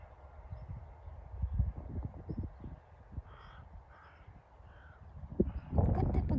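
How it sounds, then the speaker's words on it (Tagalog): Noisy crows caw outdoors at sunrise or sunset, several harsh calls ringing out across the middle, with rustling and low thumps underneath and a louder burst of noise near the end. "Ang iingay ng mga ibon,"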